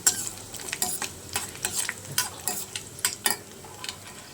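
Dried red chillies fry in a pan for a tomato-mint chutney while being stirred, giving a soft continuous sizzle broken by repeated sharp scraping strokes of the spoon, fairly close and with no talking.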